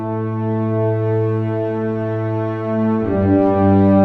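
Low orchestral instruments from the Palette library, bass, cello, tuba and trombone, hold sustained low notes together, changing to a new pitch near the end.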